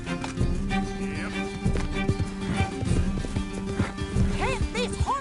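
Horse hooves clip-clop steadily at a fast pace in Red Dead Redemption 2, with occasional whinnies, under game music and voices talking.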